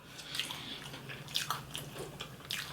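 Close-up chewing of crunchy, spicy Indian-style cauliflower, with several crisp bites and wet mastication sounds in an uneven rhythm; no one talks.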